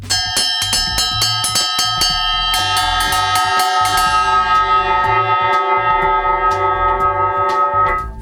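A freshly cast cymbal blank, still unfinished, rings out with a series of bright metallic strikes, each leaving a long, shimmering bell-like sustain that builds and layers before slowly fading.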